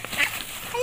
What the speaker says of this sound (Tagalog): Hala, pato nga!